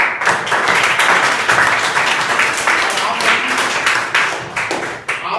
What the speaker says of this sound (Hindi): तो इनके लिए ताली बजाओ।